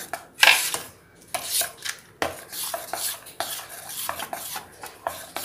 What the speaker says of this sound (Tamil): ஓகே, நல்லா கிண்டியாச்சு